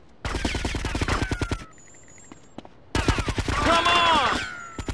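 Rapid bursts of automatic gunfire in the video game Grand Theft Auto: Vice City Stories, two loud sustained volleys separated by a short quieter gap, with shouted voices in the game.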